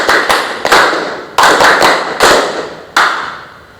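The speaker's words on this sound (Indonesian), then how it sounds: "tepukannya lebih kencang dengan iramanya seperti ini" A class claps together in a rhythmic patterned sequence, with groups of sharp, loud hand claps separated by short pauses, recorded close up indoors during a teaching session.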